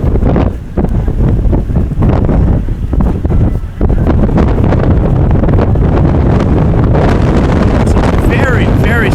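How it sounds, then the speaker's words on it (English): Strong wind gusts during a women's rowing race buffet the microphone in heavy, roaring bursts that rise and fall, with water noise underneath. "Some very, very strong gusts here at the end."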